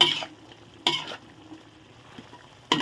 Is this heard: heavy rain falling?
no